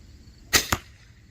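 A Bone Collector crossbow fires with a loud, sharp snap, followed about a fifth of a second later by a second crack, both close and standing alone against quiet outdoor background.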